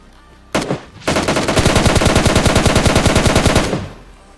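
Gunfire in the mobile game PUBG Mobile Lite: a short initial burst, then a rapid, evenly spaced automatic volley of about two and a half seconds, loud and close with no talk.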